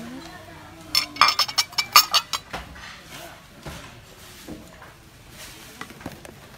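Serving plates in a discount housewares shop clink together in a quick run of bright ceramic taps as they are handled, followed by quieter rustling while someone speaks.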